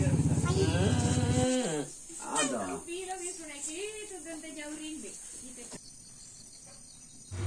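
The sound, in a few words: cows lowing on a village farm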